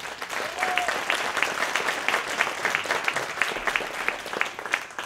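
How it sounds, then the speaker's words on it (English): Steady audience applause at a Texas Republican political gathering, a dense wash of clapping that holds for about five seconds with a faint voice briefly over it. "Give a big round of applause to Debra Medina."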